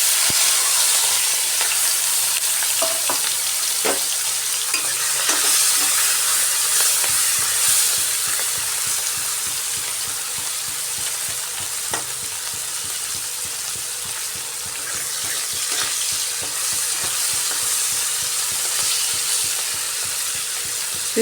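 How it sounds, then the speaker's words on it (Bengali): Prawns coated in salt and turmeric, mixed with a few small fish, frying in hot oil, producing a loud, steady hissing sizzle with scattered pops, close up and without voices. "এবার এর মধ্যে নুন হলুদ মেখে রাখা চিংড়ি মাছ ভেজে নিচ্ছি।"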